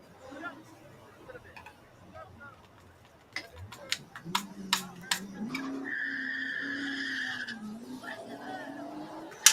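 A Camaro race car skids with a rising tire squeal in the second half, alongside sharp bursts of engine and crash noise, while people chatter over the action.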